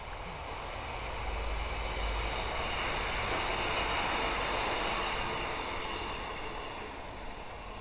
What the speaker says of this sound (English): Got a train coming, we'll let that pass.